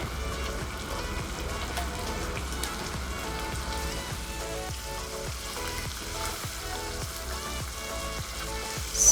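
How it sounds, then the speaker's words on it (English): Salmon fillets fry in hot oil in a pan, giving a steady, close sizzle with crackling pops and faint stirring sounds throughout, with no voices. "Now I'm heating up the pan. I'm adding in the oil, adding in the salmon here"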